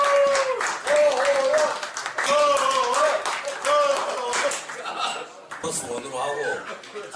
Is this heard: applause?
yes